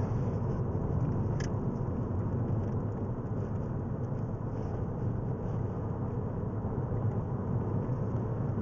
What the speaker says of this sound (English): The engine sounds very, very good as well.